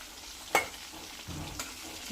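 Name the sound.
KFC-style chicken leg pieces frying in a pan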